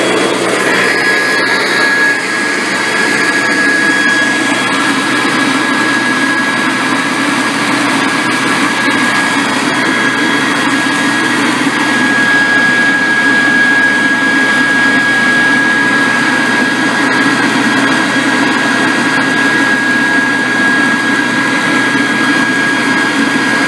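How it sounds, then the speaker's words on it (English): A blower runs steadily and loudly to inflate a pair of neoprene waders, giving a constant broadband roar with a high whine that holds for the whole stretch, with no talk over it. "As you can see, I cut the blower off."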